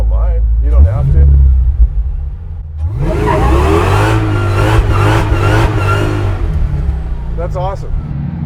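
A 745 hp Hellcat-swapped Chevy C10 revs hard for a burnout, its engine climbing through several loud rising pulls before settling back. Voices talk briefly before and after the revving.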